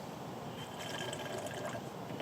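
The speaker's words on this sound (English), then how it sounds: "You can always put a drip pan underneath the car to capture any additional fluid." Coolant drains from a Mercedes-Benz CLS550 into a drip pan under the car during a radiator expansion tank replacement, a faint, continuous splashing trickle of liquid heard alone with no voices.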